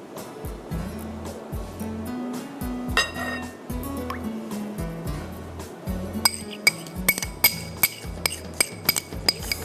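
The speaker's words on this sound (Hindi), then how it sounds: "फिर हम इसमें डालेंगे चिली सॉस 5 टेबलस्पून" Chili sauce is spooned into a bowl with soft wet plops and scraping, then a run of sharp, rhythmic clinks of a spoon against the glass toward the end, while a voice talks throughout.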